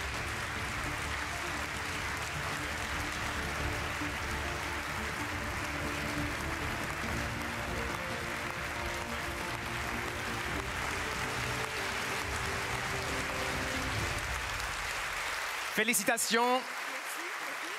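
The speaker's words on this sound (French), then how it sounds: "Sous vos applaudissements." A sustained round of applause from the audience at the European Inventor Award 2018 ceremony fills the hall, dense and steady for a long stretch, then cuts off as a voice speaks briefly near the end.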